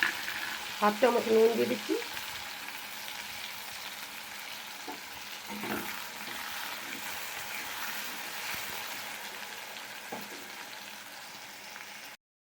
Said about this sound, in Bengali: তেলটা গরম হয়ে গেছে, আলু কটাকে দিয়ে দিচ্ছি।